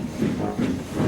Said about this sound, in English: Gordon wheezed some steam and pulled out of the station.